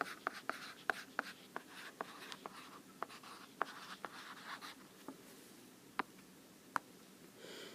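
Pen or pencil writing units beside a math answer on paper, a close run of quick scratchy strokes and taps that goes on for several seconds with no talk.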